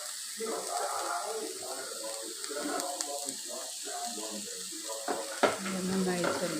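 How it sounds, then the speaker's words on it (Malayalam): Finely chopped leaves are stirred into wilted vegetables in a hot pan, giving a soft steady sizzle with scraping stirs that runs throughout, faint and close, with a sharper clatter near the end. "ആ വാടി വന്നതിലേക്ക് അരിഞ്ഞ ഇല ഇട്ടിട്ട് ഒന്ന് ഇളക്കി"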